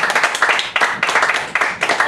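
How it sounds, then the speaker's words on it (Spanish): A church congregation clapping in rhythmic unison, loud and close, with sharp regular beats repeating about every quarter second, a voice faintly present underneath. "Dale un aplauso al Señor."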